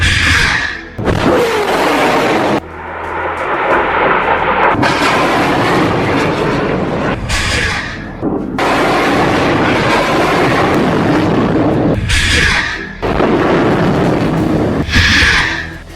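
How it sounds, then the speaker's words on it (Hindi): Hamas rockets launched from Gaza one after another: a series of loud, roaring rushes that each swell and cut off, with brief gaps between launches and no voices. "एक के बाद एक हमास 10 रॉकेट फायर करता है।"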